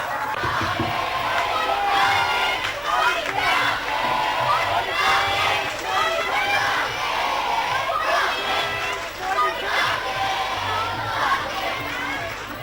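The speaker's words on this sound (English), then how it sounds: "Now that's what we call cheering." A crowd of school students cheers loudly at an awards ceremony, with shrill shouts, whoops and screams surging and overlapping in a sustained roar that swells and dips.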